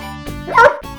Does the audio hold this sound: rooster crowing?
no